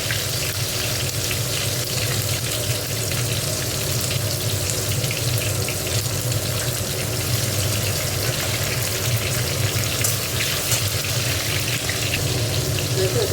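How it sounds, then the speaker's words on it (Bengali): Tomatoes frying for a Bengali cabbage curry make a steady, dense sizzle that runs unbroken from start to finish, close and fairly loud, with a watery, tap-like hiss mixed in. "টমেটো দিয়ে দিচ্ছি, টমেটোটা একটু ভেজে নিয়ে এবার মশলাটা দিয়ে দিচ্ছি"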